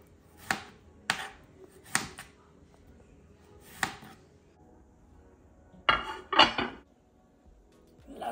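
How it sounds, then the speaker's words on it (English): A knife slices through fresh strawberries onto a cutting board, making several distinct, close thuds spaced irregularly, with a quicker pair of cuts near the end. "I have got some gorgeous looking fresh strawberries here, which I am going to slice."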